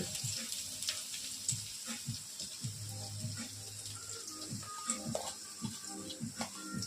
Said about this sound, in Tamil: எண்ணெய் நல்லா காஞ்சதுக்கப்புறம் வெங்காயத்தை போடணும்